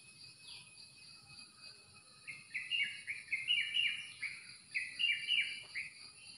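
Birds sing outdoors in quick, bright chirping phrases that repeat in bursts over a faint, quiet background hiss, with no voices.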